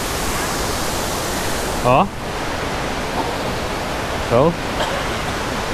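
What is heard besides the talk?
waterfall at a rural guesthouse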